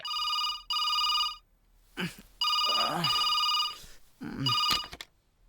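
A telephone rings in three repeated bursts of electronic trilling, loud and close. Voices speak in the short gaps between the rings, in a dramatic scene from a Telugu action film.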